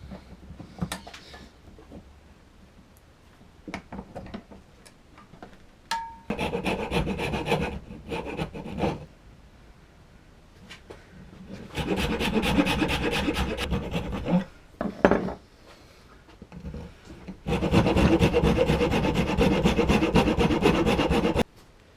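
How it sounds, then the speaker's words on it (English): A wooden mallet head clamped in a vise is filed to shape, giving long rasping strokes in several bursts with pauses between them, close and fairly loud, and no one speaking. "After a fair bit of filing, we got to the shape."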